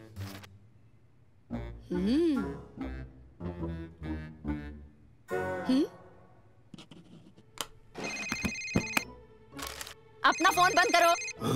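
A phone rings out in a quiet library as a cartoon scene plays, with repeated bright electronic ringtone bursts late on, mixed with animated voices talking and exclaiming.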